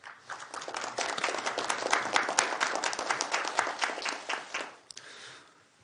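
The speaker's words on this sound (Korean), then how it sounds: "뜨거운 환영의 박수를 보내주셨으면 합니다" An audience at a presidential candidate's forum bursts into applause to welcome the speaker, a dense roomful of clapping that swells, holds for several seconds and fades out.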